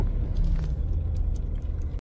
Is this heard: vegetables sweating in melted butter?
no